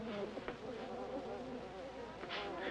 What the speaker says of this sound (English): What kind of a bee is that? An artificial one.